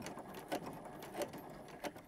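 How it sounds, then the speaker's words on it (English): A sewing machine basting ribbon onto a fabric Christmas stocking on its longest stitch length, with a steady faint whir and three short louder bursts spaced about every two-thirds of a second. "Baste on the ribbon using the longest length stitch on your machine."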